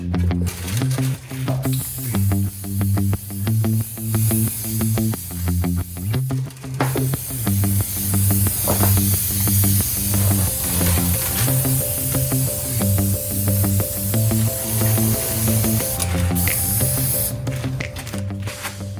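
Shellac sprays onto a wooden bathroom stool in loud, hissing bursts, with short pauses between passes and a background of steady tonal music.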